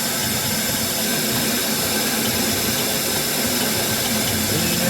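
A pontoon boat's outboard engine idles at about 550 RPM, a steady loud droning hum with broadband noise that runs unchanged from start to finish, with no voices.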